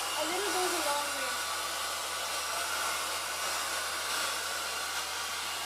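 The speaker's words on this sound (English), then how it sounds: "Slightly difficult to talk over the dryer." A hair dryer blows steadily at a live styling demonstration on a campus, a loud continuous whoosh filling all five seconds with a faint voice briefly under it near the start.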